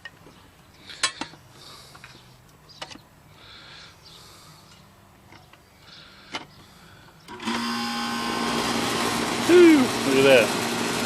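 An air conditioner condenser fan motor spins up after a new capacitor is fitted, a loud steady whir and rattle starting abruptly after quieter handling noises, with a rising whine near the end.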